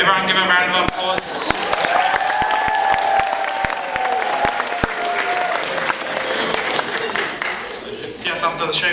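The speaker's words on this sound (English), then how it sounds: "Everyone give a round of applause." Crowd applause at a stage show with a prize giveaway, brisk clapping mixed with cheering and crowd voices, a few loud sharp claps close by and a faint sustained tone running underneath.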